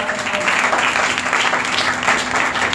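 A church congregation at a Sunday service claps together in a dense, steady burst of applause that fills the room without a break for a few seconds.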